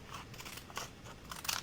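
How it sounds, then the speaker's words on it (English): Scissors snip through a sheet of music-score paper for a junk journal, several quick crisp cuts in an uneven rhythm, close and moderately loud, with no talking. "I just like the music page cut with these scissors for some reason."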